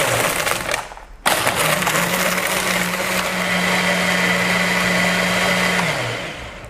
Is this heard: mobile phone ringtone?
no